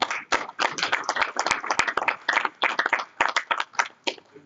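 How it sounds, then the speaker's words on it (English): Sharp, uneven hand clapping from a workshop audience at a national health information exchange event, sparse and irregular at first, then bursts of close claps with short pauses between them. "I think you can give a better clap."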